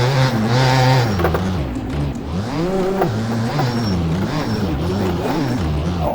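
A Gas Gas 250cc motocross bike engine in the MX Bikes simulator revs up and down repeatedly, rising and falling pitch sweeps as gears shift, loud and close with no talk.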